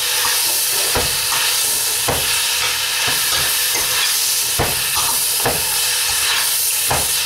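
Parsley and spinach go into a hot stir-fry pan, giving a steady loud hiss and sizzle with several sharp clicks and scrapes of stirring spaced through it, close by with no talking.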